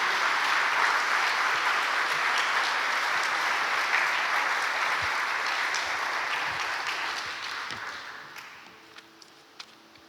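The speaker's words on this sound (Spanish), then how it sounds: "Denle un aplauso a la palabra de Dios en esta mañana" A church congregation applauds at a Sunday morning service, dense sustained clapping that runs steadily and then tapers off toward the end, leaving a few scattered claps.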